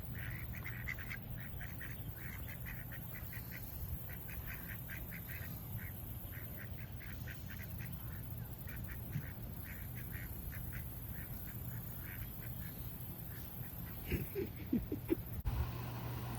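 Birds calling at Inks Lake State Park, tagged as ducks quacking: a steady run of faint, short repeated calls over soft outdoor background, with a few slightly louder sounds near the end.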